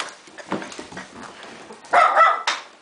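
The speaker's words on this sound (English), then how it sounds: "How do you bark with a treat in your mouth" Dog barking and whimpering close by while holding a treat in its mouth, giving muffled, strained yips and grumbles that build to two louder, choked barks near the end.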